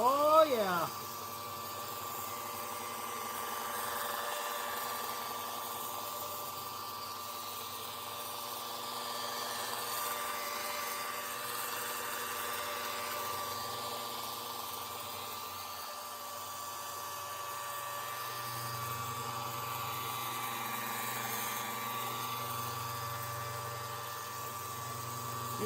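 A power polisher works over a Buick hood with a continuous steady whir that holds level throughout, starting with a brief rising spin-up, while someone talks intermittently over it.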